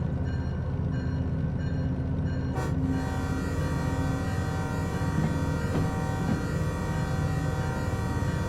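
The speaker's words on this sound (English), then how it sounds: "Trains roll up, blasting their horns." Train horns blasting in the Derail Valley train simulator near a town and oil refinery, a sustained loud tonal blare over the steady rumble of rolling rail cars, close and continuous.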